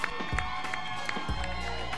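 An audience applauds and cheers for a contestant at the final round of a Thai rap competition: dense, steady crowd clapping with a couple of heavier thumps underneath, loud throughout.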